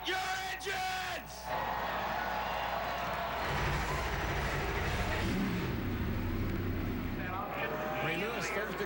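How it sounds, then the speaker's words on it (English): NASCAR race car engines starting at the Daytona 500: a crowd yells and a voice bellows over the PA, then a massed engine roar swells and rumbles on loudly under crowd noise. "Drivers and Danica, start your engines!"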